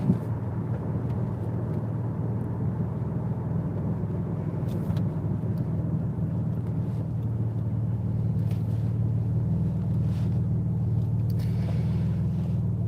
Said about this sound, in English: the car I'm driving right now is 18 years old